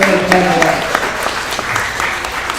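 Audience at a girls' volleyball event in Syracuse, New York, clapping steadily for a few seconds, dense crowd applause with a voice speaking over the start.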